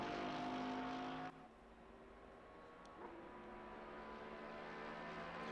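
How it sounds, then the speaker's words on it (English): Race cars in the sim racing game Assetto Corsa Competizione at Bathurst, a loud engine drone with harmonic whine that drops sharply after a second, then a steady, quieter run of engine noise from several cars. "I love the sound of these cars, honestly"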